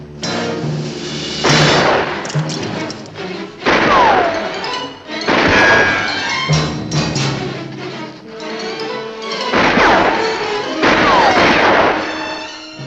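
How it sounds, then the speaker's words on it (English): A Navy ship's cannon fire blasts a beach in a war film scene, with repeated heavy booming impacts and crashes spaced a second or two apart, loud and close, mixed with sweeping whistles and an orchestral score. "The Navy ship sees the Japanese flag hanging on the tree and blasts the beach with cannon fire."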